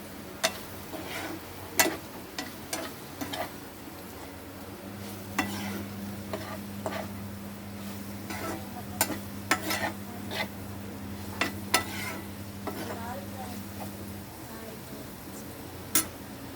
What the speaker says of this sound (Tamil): இப்போ மிக்ஸ் பண்ணி விட்டுக்கலாம்